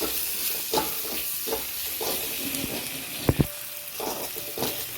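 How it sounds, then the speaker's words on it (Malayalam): Onions and green chillies frying in a pan, with a steady sizzle and repeated stirring scrapes, one sharp clatter around the middle; no talk. "പച്ചമുളകും കൂടി ഇട്ട് കൊടുത്ത് നന്നായി ഒന്ന് വഴറ്റിയെടുക്കാം"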